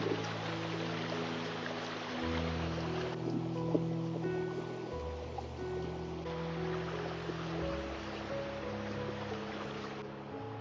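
Steady rushing water of a clean stream in a Swiss village flows continuously, a soft broadband wash with a low hum beneath it and no voices.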